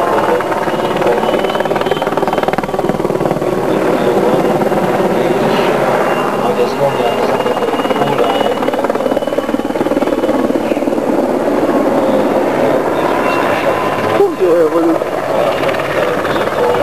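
A helicopter at the 2000 Kecskemét airshow makes a loud, steady rotor and engine drone that lasts throughout, with people talking over it.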